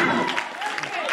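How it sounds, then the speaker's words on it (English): Church congregation clapping hands in praise, a brief burst of crowd clapping mixed with voices in the room. "Come on, clap your hands and give God praise for life."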